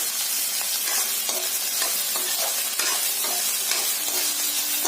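Vegetables and green chillies frying in a pan with a steady, loud, close sizzle throughout, broken by occasional stirring scrapes, with no voice.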